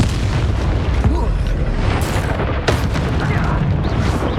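A booming spell blast from Hogwarts Legacy, with a dense rumbling explosion layered over a continuous roar of combat noise, a sharp burst standing out midway.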